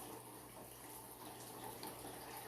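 Water runs steadily, a faint continuous splash like a tap or a filling basin, heard alone without any voices.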